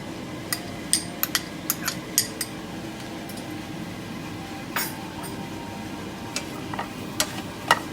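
Onion and mustard seeds fry in hot oil for a dal curry, a soft steady sizzle close by, punctuated by sharp clinks and scrapes of a spoon against the pan.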